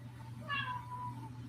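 A single short cat meow rises and trails off, fairly faint, over a low steady hum in the room.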